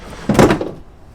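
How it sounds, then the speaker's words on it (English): A deck drawer is pulled open with a single short sliding clunk, close by and fairly loud, with no talking. "go back in the deck drawer here"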